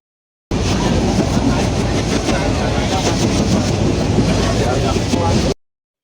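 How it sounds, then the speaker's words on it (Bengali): A passenger train pulls out of Sreemangal toward Dhaka, Bangladesh, heard from on board as a loud, constant rumble and rattle with buffeting wind noise that starts and stops abruptly. "আমরা ট্রেনে উঠে গেছি, শ্রীমঙ্গল ছেড়ে চলে যাচ্ছি"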